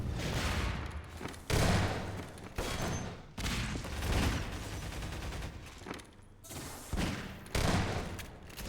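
Energy orbs fire in bursts during a Half-Life 2 Deathmatch one-on-one match, loud booming blasts in irregular clusters with short gaps between them.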